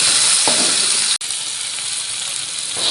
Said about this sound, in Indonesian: Tumiskan bawang. Masukkan tomat yang sudah dipotong.